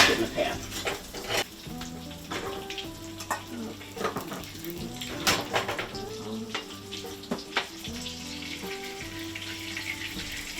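A cheeseburger patty fries in a pan, a steady close sizzle broken by scrapes and clatter of a spatula and pan, with no talking.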